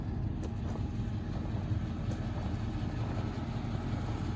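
A 2001 Chevrolet 3500HD dump truck with an 8.1 liter engine sits idling nearby, a steady, deep, even rumble that holds unchanged throughout with no speech.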